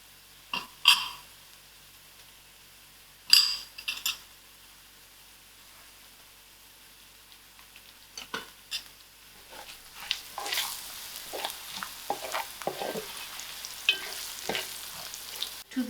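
Onions, garlic and masala spices frying in a pan, stirred in bursts of scraping and sizzling, with quiet pauses early and a steadier crackle toward the end.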